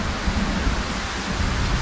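Steady rain in the video game Y Lands, a dense even hiss with low rumble that fills the whole moment without pause, close and moderately loud with no voices.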